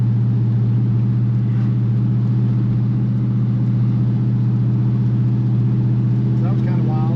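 A Chevy squarebody truck with a rebuilt transmission pulls steadily down the road, its engine droning loud and low inside the cab without letting up. A voice talks over the noise.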